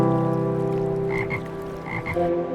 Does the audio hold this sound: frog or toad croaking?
yes